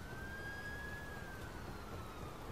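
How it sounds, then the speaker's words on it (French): A fire truck siren wails at a distance in the Watch Dogs video game, one long rising and falling tone held across the clip over a steady bed of ambient city noise, with no talking. "Où sont les pompiers? Parce que j'en entends"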